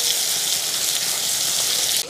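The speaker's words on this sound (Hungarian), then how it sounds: "Hadd süljenek." Garlic flekken, Hungarian pork slices, frying on a disc pan with bacon pushed to the side, giving a steady, loud, close sizzle that runs unbroken for about two seconds before dropping slightly at the end.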